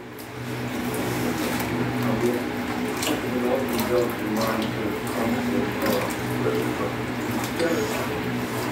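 Water runs steadily from a tap into a bowl while making gazpacho, a continuous splashing rush, with faint voices in the background.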